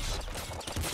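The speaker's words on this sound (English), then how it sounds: "I can walk while I'm shooting this disc gun." Rapid repeated firing of the golden disc gun in Nuclear Throne, a dense, gritty stream of quick shots and clatter at steady loudness, with no voice over it.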